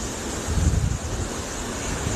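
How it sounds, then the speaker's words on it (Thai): Wind and ocean waves on the open deck of a cruise ship at sea: a steady broadband rush with a low rumbling swell that peaks briefly, then settles into continuous wind noise. "แล้วก็มาถ่ายทะเลให้ทุกคนดู"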